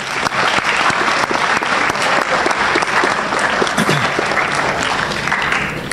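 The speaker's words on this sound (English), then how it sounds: "Would you give them a round of applause?" A school auditorium audience gives loud, sustained applause at a National Honor Society event honoring American Legion members. The dense clapping stays steady from start to finish.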